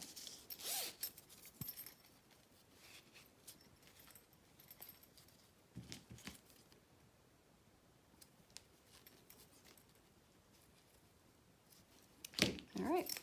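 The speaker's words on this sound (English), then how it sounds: "zippers are prepped and ready for the next step" Zippers being handled and pulled while prepped for sewing a bag, giving faint scattered rasps and clicks with a louder zipping burst near the end, in a quiet room.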